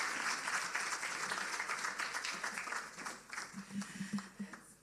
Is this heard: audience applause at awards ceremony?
yes